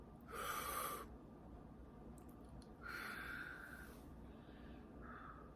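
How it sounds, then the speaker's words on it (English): Slow deliberate breaths during a guided breathing exercise, two or three audible inhale and exhale passes spaced a couple of seconds apart, close and soft against a quiet background. "Breathe in, breathe out."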